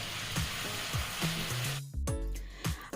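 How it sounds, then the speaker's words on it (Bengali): Spices sautéing in a pan with a splash of water for aloo katli, a steady sizzle broken by several spatula scrapes and a sharp burst of hiss near the middle, no voices. "এবারে এই সমস্ত মশলাগুলো ভালোভাবে কষিয়ে নিতে হবে দিচ্ছি সামান্য জল যাতে মশলাগুলো পুড়ে না যায়"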